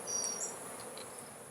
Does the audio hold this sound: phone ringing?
no